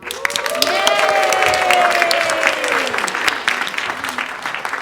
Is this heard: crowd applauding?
yes